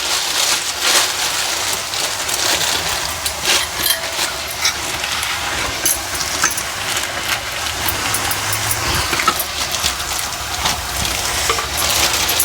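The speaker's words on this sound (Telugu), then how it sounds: "ఒకటి ఇక్కడ డీప్ ఫ్రై అవుతుంటుందండి" Black-eyed pea fritters (appalu) deep fry in hot oil with a loud, dense, continuous crackle and hiss that stays steady throughout, close up.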